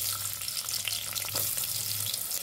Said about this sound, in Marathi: तेल कडले आहे, त्यात आता कांदा टाकून घ्यायचा।